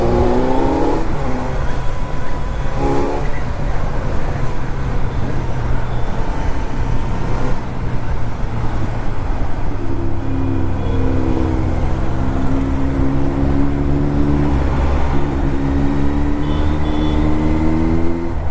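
A Kawasaki Z motorcycle with an Arrow Pro Race titanium exhaust revs loudly and continuously at close range, its engine note rising and falling in repeated pulls with strong low rumble throughout.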